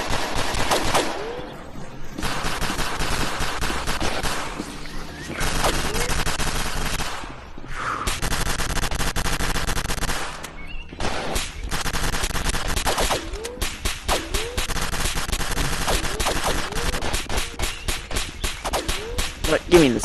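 Rapid gunfire from a gun at a shooting range in the Rec Room VR game fills the scene in loud, dense bursts with short pauses, under occasional talk.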